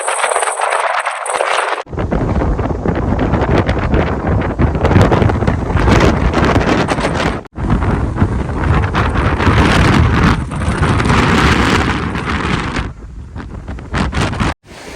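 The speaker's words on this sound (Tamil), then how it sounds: "பயங்கரமாக காத்தடிக்குது" Strong wind roars across a microphone on a hilltop ringed by mountains, loud and gusty with constant buffeting rumble, a brief drop in the middle and near the end.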